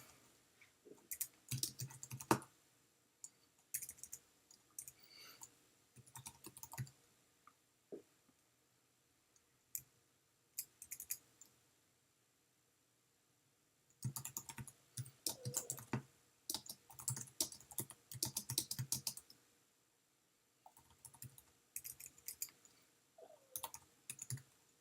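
Someone types a sentence on a computer keyboard, with quick bursts of close, crisp key clicks separated by short pauses, heard alone and fairly quietly.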